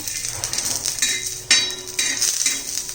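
Coconut and peanuts roasting in oil in a pan for curry leaf chutney, with clinking and scraping of a utensil against the pan over a steady faint sizzle, a sharper knock in the middle.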